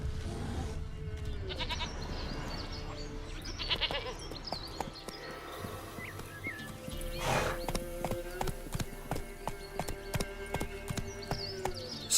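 Rhythmic clip-clop of a horse's hooves in The Witcher 3 video game, steady galloping footfalls over a continuous game soundscape with no speech.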